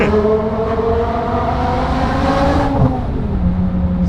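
A modified BMW M5 Touring's V10 engine revs loudly and close by, holding a rich, steady tone that swells and then drops away near the end.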